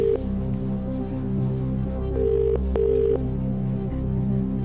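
Telephone call on the UK quiz show Who Wants to Be a Millionaire, a steady tone with repeated ringing bursts over a low hum, moderately loud, no talk.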